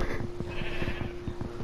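Sheep bleating in Minecraft, a few short quiet bleats repeating over a steady tonal hum, with no talking.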